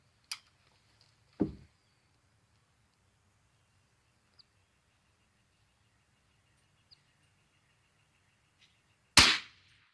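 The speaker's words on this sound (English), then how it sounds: "I'm gonna shoot the closest one to you." Rifle shots while hunting ground squirrels outdoors: three sharp, loud reports spaced several seconds apart, each with a short decaying tail, over quiet open-air background with a few faint ticks between them.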